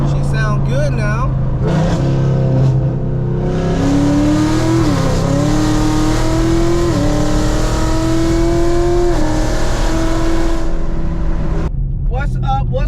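A 2018 Chevrolet Camaro ZL1 engine revs while driving, rising and falling through gears with a loud, close, steady roar and sharper throttle blips at the start and end.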